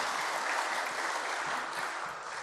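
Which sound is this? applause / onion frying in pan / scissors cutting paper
applause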